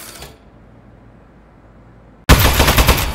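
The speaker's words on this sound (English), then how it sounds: "Shooting!" Burst of rapid gunfire from a weapon in the Aperture Desk Job video game, erupting loudly and abruptly after near silence and continuing as a dense, close rattling stream.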